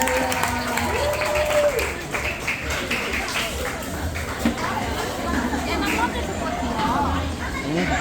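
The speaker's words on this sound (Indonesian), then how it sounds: "Beri tepuk tangan untuk Ibu Nubi." Audience applause for a woman called up to give a testimony at a church cell-group closing dinner, steady clapping mixed with crowd chatter and babble throughout.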